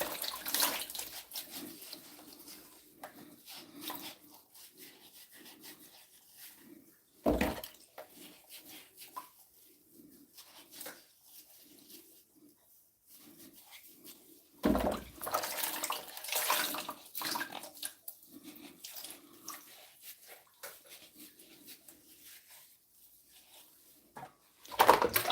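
Water runs into a kitchen sink with a strainer, a steady splashing stream with two brief louder surges, no talking.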